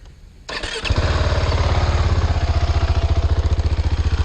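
The large-bore single-cylinder engine of a 2018 KTM 690 Duke with stock exhaust cranks and fires up, then thumps loudly in a steady, pulsing idle close by.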